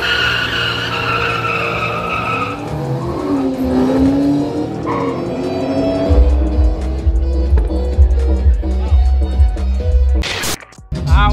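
A drag racing car launches down the strip at a Turagua Mustang Day event, its engine revving hard with tire squeal and a rising roar, then a loud low rumble as it pulls away, close and continuous.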